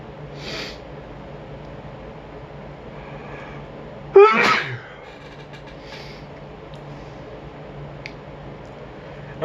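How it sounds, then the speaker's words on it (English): A single sharp, loud human sneeze bursts out close by after drinking Coke Zero, standing alone in the middle of a quiet stretch with faint room noise around it. "for some reason I tend to sneeze whenever I drink Coke Zero"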